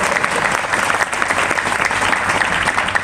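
An audience at a religious gathering claps for several seconds in a dense, even wash of applause from many hands, loud and continuous.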